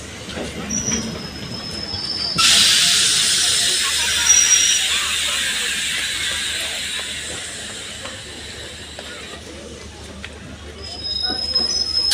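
Inside a moving train: a steady low rumble of wheels on rails with a loud rushing hiss that swells, then slowly fades.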